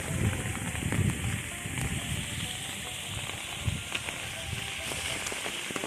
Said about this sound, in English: You can probably hear how the rain intensity is picking up